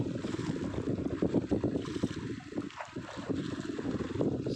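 Steady wind and sea noise on the coast of Chanthaburi, Thailand, at night, with a continuous rushing wash that rises and falls like waves, constant throughout with no voices.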